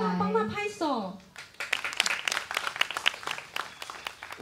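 Scattered clapping from a small live-music audience at a Tiefa Village show, sharp irregular claps following a brief stretch of voices.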